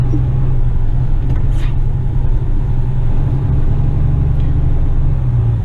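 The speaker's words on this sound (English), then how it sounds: "Splitting the gears while downshifting." A Western Star dump truck engine drones steadily from inside the cab while downshifting, a loud, continuous low rumble with no distinct gear changes standing out and no speech.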